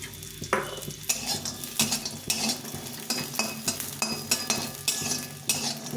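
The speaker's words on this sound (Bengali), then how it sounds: "বড়িগুলো ভেজে নেব।" Bori, lentil dumplings coated with salt and turmeric, frying in hot oil in a wok, with a steady sizzle and repeated rhythmic scraping and clinking from a stirring utensil, close and clear, no speech.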